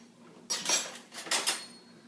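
A metal spoon stirs in a cooking pot of sirloin and potato rice risotto, two bursts of close scraping and clinking against the pot after a quiet start, no talk.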